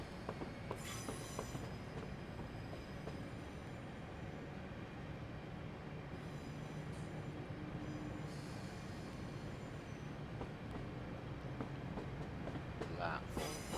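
A Class 455 electric multiple unit in Train Sim runs into London Waterloo, a continuous rumbling roll of wheels on track with occasional squeals and clicks and faint voices now and then.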